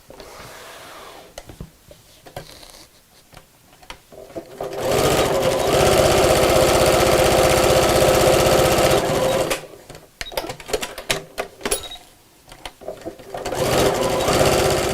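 A domestic sewing machine stitches pockets onto a fabric wall-hanging organiser in loud, close, steady whirring runs, stopping and starting with short backstitch bursts between longer continuous seams.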